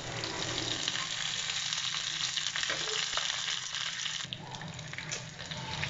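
Curry leaves, along with dried red chillies and popped mustard seeds, sizzling in hot coconut oil in a pan, a loud, dense, continuous frying hiss heard up close that eases slightly toward the end.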